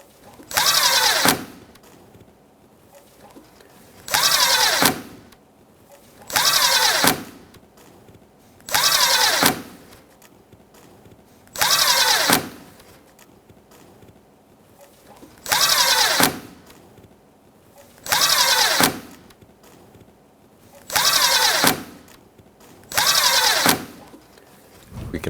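Power tool driving bolts and screws along the grille of a 2016-2022 Honda Pilot 3.5L, nine evenly spaced bursts of buzzing whir separated by short pauses, close and loud with no talk.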